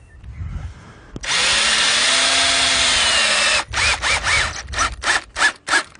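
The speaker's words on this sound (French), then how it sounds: "Une fois notre panneau mis à plomb, nous allons le visser sur notre poteau." A power drill drives screws to fix a wooden fence panel onto its post: one long, loud whine of about two seconds, then a series of short stuttering bursts as the screw seats, heard up close.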